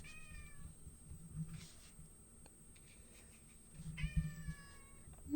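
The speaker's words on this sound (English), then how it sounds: "This crazy cat." A cat meows twice, a long wavering call at the start and another near the end, fairly close in an otherwise quiet indoor space with faint background hum.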